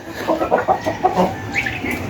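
Several chickens, one with a broken left leg, cluck in short, uneven bursts close by, with a higher squawk near the end and no voices.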